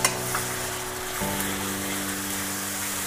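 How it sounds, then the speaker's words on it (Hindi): Carom seeds, cumin and turmeric powder sizzle steadily in a hot pan, a loud, even frying hiss with a brief stirring knock near the start and no talking. "ये अजवाइन और जीरा हम अच्छे से पका लेंगे।"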